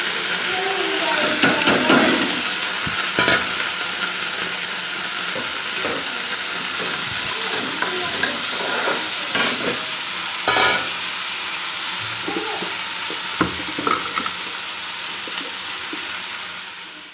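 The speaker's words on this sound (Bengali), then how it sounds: "এগুলা দিয়ে হবে ম্যাগি রান্না, এখন আমি করবো ম্যাগি রান্না," Continuous loud sizzle and hiss of veg Maggi noodles frying in a pan, with occasional clinks and scrapes from stirring, steady and close throughout while a voice talks now and then.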